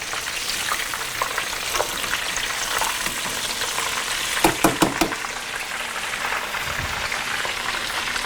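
Schnitzel fries in grease on a stove with a steady, dense sizzle and crackle throughout, broken near the middle by a few sharp spatters and pops close by.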